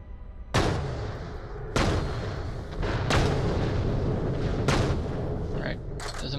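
Gunfire from a new gun in the video game Borderlands The Pre-Sequel: four or five heavy, booming shots spaced about a second apart, each followed by a rumbling tail. A voice is heard faintly underneath.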